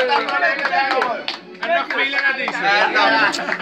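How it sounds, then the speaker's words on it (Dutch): A group claps for a priest at a gathering, brisk applause mixed with lively chatter and voices throughout, dipping briefly in the middle before picking back up. "Applaus voor pater."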